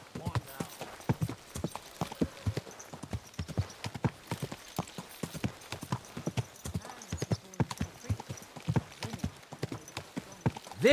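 A horse walks at an easy pace in the medieval game Kingdom Come: Deliverance 2, its hooves clip-clopping in a steady, close rhythm of sharp knocks, with a faint whinny and quiet tack noises between steps.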